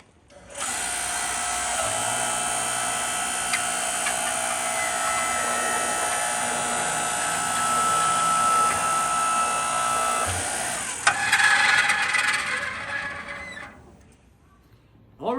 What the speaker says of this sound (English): we tested out our log splitter